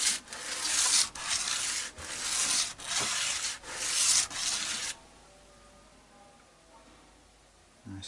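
Sandpaper rubbing down the nut of a vintage Stratocaster guitar: five steady back-and-forth sanding strokes, close and fairly loud, followed by a few seconds of quiet room tone.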